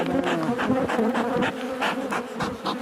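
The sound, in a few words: forager honeybees buzzing around opened beehives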